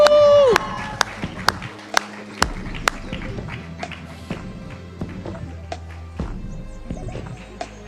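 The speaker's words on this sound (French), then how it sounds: "Et bien voilà, on les applaudit" Audience at a Miss Burundi semi-final pageant applauding the contestants, a steady wash of clapping with sharp individual claps popping out, following a brief tonal sting at the start.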